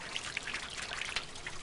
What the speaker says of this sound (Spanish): Hay 16 fuentes en la ciudad diseñadas hermosamente